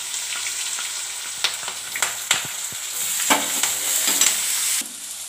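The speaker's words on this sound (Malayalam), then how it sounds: "അതിലേക്ക് സവാളയും കൂടി ഇട്ട് കൊടുത്തു. ഇനി ഇത് മൂന്നും കൂടി ഒന്ന് നന്നായിട്ട് വഴന്ന് വരട്ടെ." Onions frying with ginger-garlic paste, green chilli and curry leaves in oil for chicken curry, a close steady sizzle punctuated by spoon scrapes and stirring clacks, no talk.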